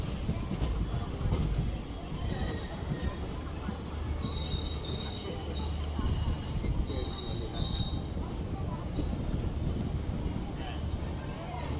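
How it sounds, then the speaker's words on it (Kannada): A Guntakal to Tirupati passenger train pulls into platform 3 at Tirupati railway station, wheels squealing thinly and steadily over a dense, continuous rolling rumble of carriages close by. "ಪ್ಲ್ಯಾಟ್ಫಾರಮ್ ನಂಬರ್ 3 ತಿರುಪತಿ ರೈಲು ನಿಲ್ದಾಣಕ್ಕೆ ನಮ್ಮ ಟ್ರೈನ್ ಬಂದಿದೆ"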